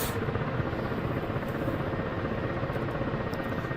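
Steady loud rotor and turbine roar of a Black Shark 3 helicopter in the Digital Combat Simulator game, a continuous dense drone with rhythmic blade thumping and no talking.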